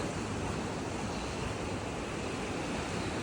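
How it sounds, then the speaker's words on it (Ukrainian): Sea waves in Odesa, a continuous dense roar of surf mixed with wind buffeting the microphone, loud and unbroken for the whole stretch. "Море."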